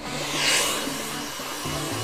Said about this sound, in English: So you really want to sort of rough it up with your dryer as well